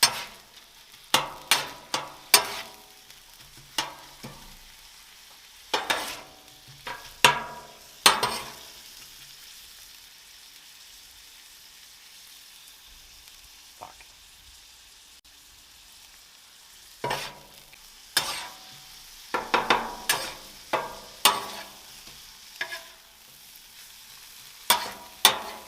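80-20 ground beef and a small tomato being stirred in a frying pan: soft constant sizzle broken by clusters of scraping spatula strokes, with a long quiet pause in the middle and no talking.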